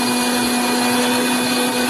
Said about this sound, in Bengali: এবার সব উপকরণগুলো একবার ভালোভাবে ব্লেন্ড করে একটা মশলার পেস্ট বানাবো